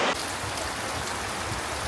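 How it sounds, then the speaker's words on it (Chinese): Heavy rain falls in a downpour in Indonesia, a dense, loud, unbroken roar of drops that fills the whole clip with no voices. "下起了磅礴的大雨。"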